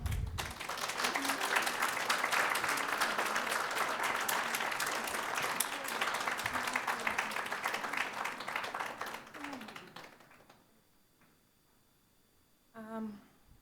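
An audience at a Ukrainian mental health event applauds in a long, dense, continuous round that gradually fades out, followed by near quiet and a brief voice at the end.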